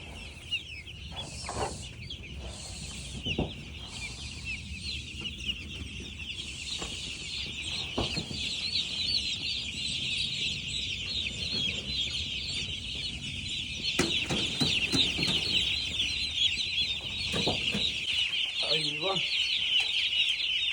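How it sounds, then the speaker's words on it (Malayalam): A dense, continuous chorus of high-pitched peeping from many day-old broiler chicks, steady and close throughout, with occasional handling noises. "ഒരു ദിവസം പ്രായമായ നമ്മൾ കോഴിക്കുട്ടികൾ"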